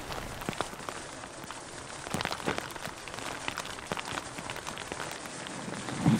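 Rain pouring outdoors during a hail and rainstorm, a dense steady patter of drops on surfaces with scattered louder hits, close and continuous with no talking.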